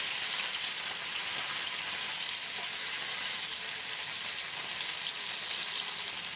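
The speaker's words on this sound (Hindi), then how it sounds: "पनीर को हम फ्राई कर लेंगे, हल्का ही ब्राउन करेंगे, ब्राउन होने तक फ्राई करेंगे।" Paneer cubes frying in oil in a pan until lightly browned for butter paneer masala, a steady, even sizzle with fine crackle, continuous and close, with no talking.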